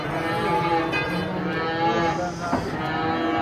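A giant cow lowing loudly while being unloaded from a truck, one long drawn-out moo that fills the moment, with faint background noise and no clear talking.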